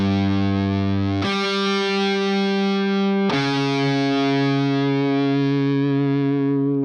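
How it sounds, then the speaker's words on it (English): Distorted electric guitar plays a heavy metal-style tritone riff: three heavy sustained notes, loud and saturated, each ringing out fully in a thick continuous wall of fuzz. "if you ever play the riff to that, just the main idea of it is going to be this sound."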